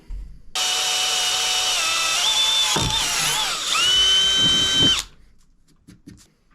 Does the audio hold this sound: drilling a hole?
yes